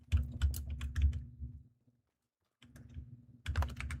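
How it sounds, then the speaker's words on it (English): Rapid clacking keystrokes on a computer keyboard, close and fairly quiet, in two bursts separated by a second of silence. "Yeah, I got my keyboard right here."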